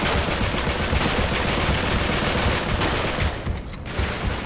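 Dense gunfire in the video game Uncharted 3, rapid loud overlapping shots and bursts that fill the clip almost without a break, close and harsh, with no talking.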